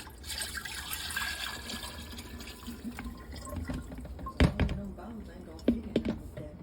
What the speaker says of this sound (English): And then we have our simple sugar solution. You want to pour that in.